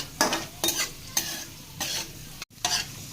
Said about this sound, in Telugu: ఈ నెయ్యిలో జీడిపప్పు కిస్మిస్లు ఇవన్నీ వేయిస్తున్నాను